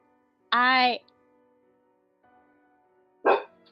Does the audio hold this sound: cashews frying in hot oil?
no